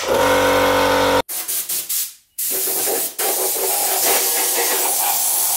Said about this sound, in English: I'm just gonna spray it one more time down with some compressed air